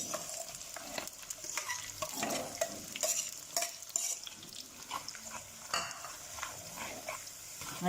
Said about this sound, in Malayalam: അരപ്പിൻ്റെ പച്ചനിറം പച്ച